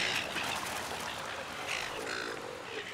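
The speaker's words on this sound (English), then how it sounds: "The water birds happily accept whatever the humans don't want." Pelicans, seagulls and other fish-eating water birds gather for scraps, their calls and squawks rising in a steady noisy chorus over continuous background wash.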